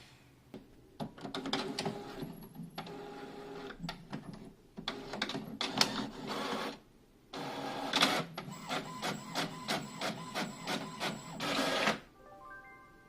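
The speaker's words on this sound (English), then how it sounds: "I love my printer. It's so fast." Office printer printing pages, a series of mechanical whirring and clacking bursts with short pauses between them, close and fairly quiet with no talk.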